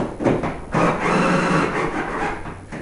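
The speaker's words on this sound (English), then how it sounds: "So a cordless screwdriver helps with the Phillips tip on it." A cordless screwdriver with a Phillips tip backs screws out of a tanning bed's acrylic bench, whirring steadily and loudly at close range for about three seconds, with a short pause near the start.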